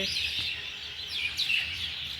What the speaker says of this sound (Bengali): কি দারুণ দেখো পাখিদের আওয়াজ।